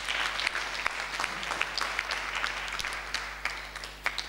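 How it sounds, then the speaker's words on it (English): A church congregation claps in praise during a sermon on prayer, a dense, sustained wash of many hands with scattered louder claps standing out, moderately loud with a low steady hum beneath. "Give Jesus a clap of praise."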